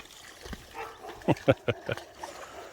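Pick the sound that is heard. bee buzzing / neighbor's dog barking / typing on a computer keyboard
neighbor's dog barking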